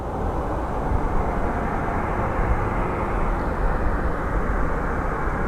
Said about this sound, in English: So as we watch this Southwest taxi, always good to see him taxiing.